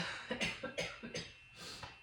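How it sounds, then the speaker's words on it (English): A run of five or six short, dry coughs in quick succession, close and moderately loud, followed by a softer breathy cough. "still coughing, I don't know why"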